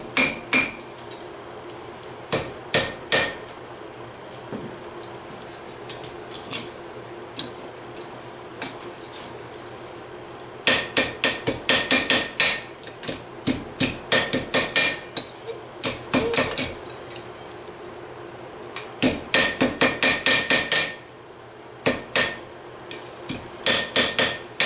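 A blacksmith's hammer rings on hot steel while forging hooks, striking in quick rhythmic volleys of many blows separated by short pauses and lighter isolated taps.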